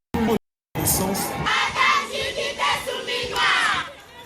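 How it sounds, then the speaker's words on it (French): An enthusiastic crowd cheers and shouts as a head of government arrives on a visit to Lualaba, a loud, dense swell of many voices that rises and falls after a brief cut to silence. "première ministre Judith Suminwa Tuluka entre en scène sous l'ovation d'un peuple enthousiaste."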